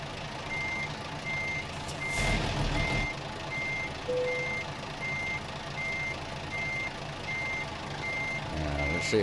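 A truck backing a trailer in American Truck Simulator, its reversing alarm beeping in a steady regular rhythm over a low engine drone, with a brief hiss of air brakes partway through.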